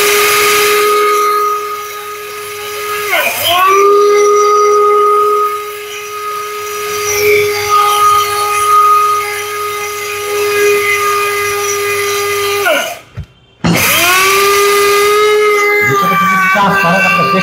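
An electric multifunctional food grinder whirs loudly as it grinds coriander seeds, a high steady motor whine with a brief dip and restart partway through, then cutting out near the end.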